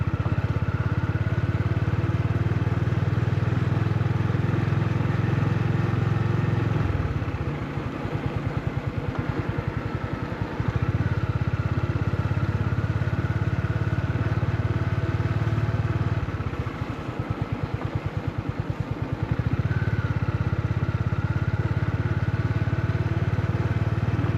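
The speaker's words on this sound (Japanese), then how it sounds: "バイクで駅のホームを通過してみます" A Honda GB350 motorcycle engine hums steadily throughout while riding through a station platform, with two stretches of rougher, throbbing revving, close and continuous with no talk.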